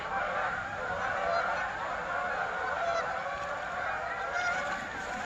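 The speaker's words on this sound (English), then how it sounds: "I just scared off a flock of a couple hundred Canadian geese that are flying south for the winter." Canada geese in a flock of a couple hundred honk continuously as they take off and fly south, a dense, steady chorus of overlapping calls at moderate distance with no talking.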